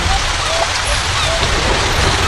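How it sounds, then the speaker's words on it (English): Steady rain from a BabyBus kids' video game, a continuous loud hiss of falling drops filling the short stretch without pause. "Rain."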